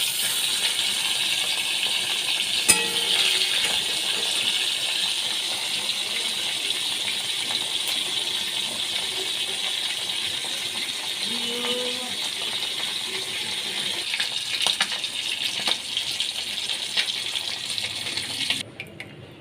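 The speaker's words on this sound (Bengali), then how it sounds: "মাছগুলো আমি ভালো করে মেখে ভেজে নিচ্ছি" Bhola fish rubbed with salt and turmeric frying in a pan: a steady, even sizzling hiss that holds throughout, with a few faint clinks and pops and no talking.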